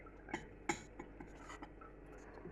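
Faint gritty scraping and clinking of a spoon against a jar of crystallized grape jelly, a few short scrapes and taps in a quiet room.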